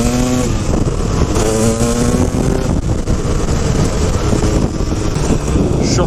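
A KTM 250 EXC two-stroke dirt bike revs hard while ridden, its engine rising in pitch through the gears under heavy wind buffeting, loud and close throughout.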